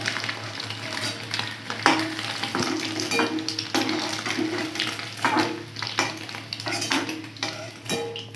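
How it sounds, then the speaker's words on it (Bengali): Paneer cubes frying in oil in a pan over a lowered gas flame for a paneer malai curry, a steady close sizzle with scattered clinks and stirring noises throughout. "বাদবাকি পনিরগুলো আমি একইভাবে ভেজে নেব"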